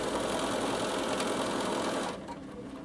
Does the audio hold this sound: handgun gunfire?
no